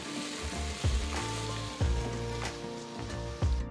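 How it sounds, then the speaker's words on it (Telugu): Marinated chicken pieces with salt and chili go into a pan of cooked-down tomatoes with coriander and cumin powder, sizzling steadily while utensil clanks and stirring knocks recur about every second, close and fairly loud, with no talking. "ఇందులో ఉప్పు కారాలతో ఊరపెట్టిన చికెన్ని వేస్తున్నాను"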